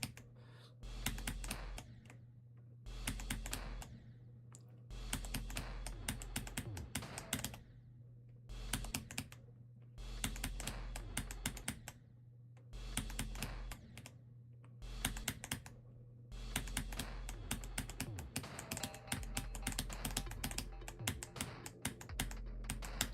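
Rapid mouse clicking while playing the Sakupen Hell level, in tight bursts of clicks separated by short pauses, all over a steady low electrical hum with no talking.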